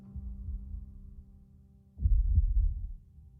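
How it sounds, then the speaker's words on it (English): A heartbeat sound effect at the close of the Stranger Things finale, heard after a cut to black: a low, dull thumping pulse that starts soft, then swells into a louder, heavier throb partway through, with no talking. "it cuts to black and we hear a heartbeat."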